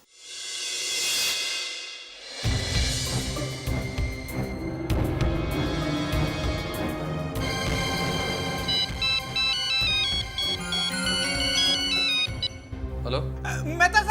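A mobile phone rings with an incoming call: a brief chime opens, then a loud, melodic ringtone tune plays on and on, repeating steadily for over ten seconds before cutting off.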